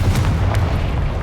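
A Confringo blasting spell goes off in Hogwarts Legacy on PC, a short booming explosion with a deep rumble and brief crackling bursts, loud and close.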